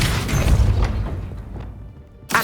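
A Depulso force spell fires in Hogwarts Legacy as a deep booming blast that fades over about two seconds, with a fresh burst of impact noise cutting in at the end.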